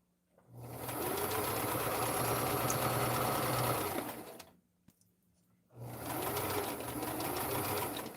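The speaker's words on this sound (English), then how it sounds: "So I'm sewing these two fronts together and then sew the front to the back" A sewing machine runs in two loud, close, steady bursts with a brief quiet gap between them, stitching together the front pieces of a muslin dress form cover.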